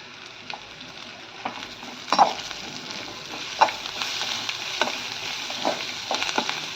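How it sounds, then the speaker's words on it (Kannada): Coriander leaves and turmeric powder fry in hot oil in a pan, giving a steady close sizzle with scattered stirring clicks and scrapes throughout and no talking. "ಇದು ಅಷ್ಟೇ ಸ್ವಲ್ಪ ಎಣ್ಣೆಲಿ ಫ್ರೈ ಆಗಲಿ"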